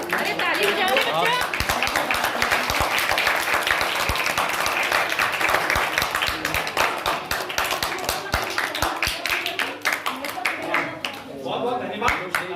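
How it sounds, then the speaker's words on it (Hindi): Classroom children clapping together, a loud, dense, steady burst of applause with sharp individual claps, lasting several seconds with voices mixed in underneath. "अरे ताली बजाओ बच्चा।"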